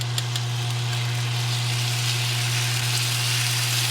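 Minced garlic dropped into olive oil on a flat griddle, a steady close sizzle with fine crackling over a constant low electrical hum, even in level from start to finish.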